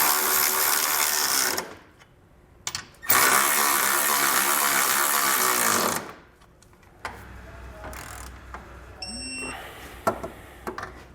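Power tool driving a 17mm socket onto hitch frame bolts under a 2022 Kia Telluride: two long, loud whirring bursts separated by a pause, then softer handling noises and clinks.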